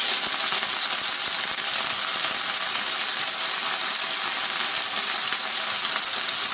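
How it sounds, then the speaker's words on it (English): Masala sauce poured into a hot pan for chicken jalfrezi gives a steady, dense hiss and sizzle with faint crackle throughout, close and continuous with no talking. "Next we're going to add the masala sauce"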